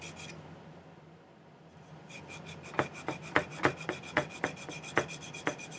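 Rasping file strokes on silver for a turquoise ring, about a dozen sharp rhythmic scrapes close by after a quieter stretch of faint rubbing.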